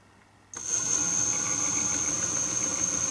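A salvaged old alternator rigged with rough wiring as an electric power steering pump motor for a DIY electric car starts spinning, a steady close-up whir with a high-pitched electrical whine that continues evenly after a quiet start.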